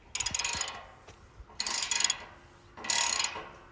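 A ratchet snugs bolts on a solar panel ground mount in three bursts of rapid, close clicking, with quiet pauses between them.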